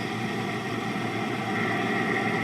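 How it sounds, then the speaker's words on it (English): A propeller plane's engine in the War Thunder combat flight game, from a new sound update, drones steadily and loudly throughout, a dense continuous roar with no talking over it. "Wow, listen to that engine!"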